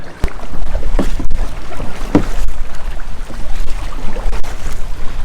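Close, loud water splashes and gurgles from paddling a kayak near Railay or Phuket, Thailand, with wind buffeting the microphone throughout.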